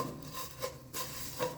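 A spoon scrapes and stirs vermicelli roasting in ghee in a pan for sheer khurma, giving soft rhythmic rubbing strokes close by with no voices.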